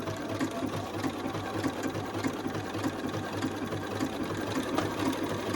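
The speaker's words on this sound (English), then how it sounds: "you get to know your machine and you'll know like where the stitches go" Sewing machine stitching felt for number blocks: a steady, fast mechanical whir and rhythmic needle clatter, running continuously and fairly quiet, no voices.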